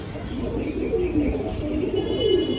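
Pigeons cooing at a pigeon market, soft repeated low coos from several birds close by, with faint chirps and background bustle.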